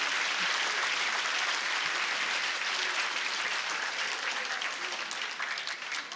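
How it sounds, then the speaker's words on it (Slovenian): An audience at the opening of the Ilirija sports centre applauds in a dense, sustained burst of clapping that fills the whole stretch, loud at first and easing slightly toward the end. "naj bo vaš aplavz."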